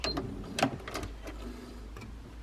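A sewing machine runs in short bursts while stitching a blanket corner and finishing with a small back tack, giving quick mechanical whirring and clicking at close range.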